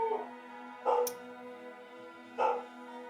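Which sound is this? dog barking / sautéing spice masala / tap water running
dog barking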